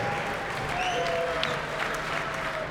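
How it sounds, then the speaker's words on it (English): Applause from a studio audience after a Wisconsin MMA fight win, a steady wash of clapping that runs evenly throughout, with faint background tones underneath. "One more round of applause, folks."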